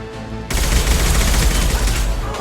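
Loud, sustained rifle fire from the video game Mass Effect 2 erupts suddenly after a brief quiet lead-in and continues as a dense, rapid volley close up.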